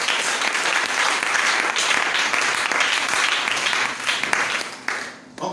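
Church congregation applauding in praise of the Lord, a dense wash of many hands clapping steadily throughout, fading briefly near the end before resuming.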